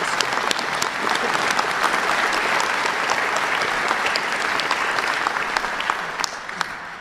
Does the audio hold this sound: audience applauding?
yes